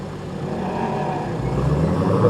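A 2016 Dodge Challenger Hellcat launching hard in 700-horsepower mode, its engine roar building steadily and growing louder over a couple of seconds, heard alone without voices.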